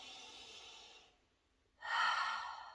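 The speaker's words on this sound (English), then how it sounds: "A deep breath." A deep breath during yoga stretching, heard as a soft inhale that fades to a brief pause and then a fuller, louder exhale, close and quiet.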